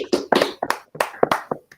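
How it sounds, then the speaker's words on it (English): Brief, scattered applause from a small group during a virtual event, several hands clapping unevenly in bursts rather than a steady roar, fairly close and with no one speaking. "if we could all clap"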